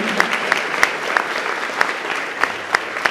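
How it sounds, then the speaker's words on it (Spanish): A church congregation applauds together, dense steady clapping with sharp individual claps standing out, close and loud, with no voices over it. "Ahora denle su mejor aplauso a Dios."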